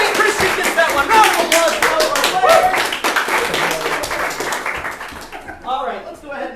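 Audience at an improv comedy show bursts into dense clapping that carries strongly for about five seconds, then thins out as a voice begins speaking over the tail end.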